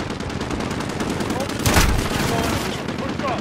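Loud, sustained automatic gunfire in Call of Duty Modern Warfare, a continuous rattling burst with a heavier blast near the middle.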